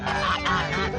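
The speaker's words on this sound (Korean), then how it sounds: "그래서 요즘 아기 거위들은 돌아서면 배고프다고 아우성이다." Hungry baby geese in an enclosure clamor together, a dense and loud overlapping chorus of nasal honks heard up close for about a second, with no voices.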